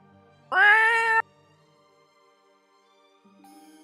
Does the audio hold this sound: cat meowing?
yes